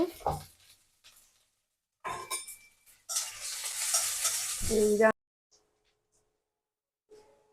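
A pan of fish and vegetable curry with hot Bombay chilies sizzles and is stirred, producing clinks and scraping at first and then a two-second burst of loud frying hiss that cuts off abruptly into near silence.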